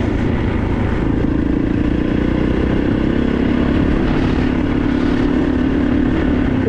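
Adventure motorcycle riding along a main road near Page, Arizona, the engine a steady loud drone with wind rumble throughout, holding a continuous low hum that rises slightly in pitch midway.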